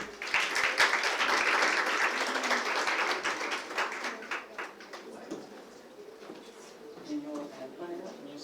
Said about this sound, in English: Please welcome on stage our very first speaker in a huge round of applause, Mr. Muhammad Arsalan.